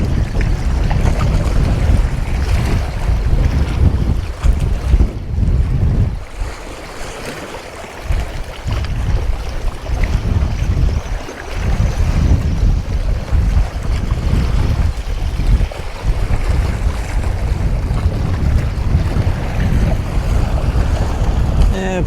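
Strong wind blows at sea during a UK sea fishing trip near Salcombe, a loud continuous buffeting roar with gusts battering the microphone over a low rumble of water, with no clear talk.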